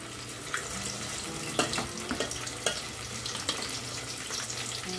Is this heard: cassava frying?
yes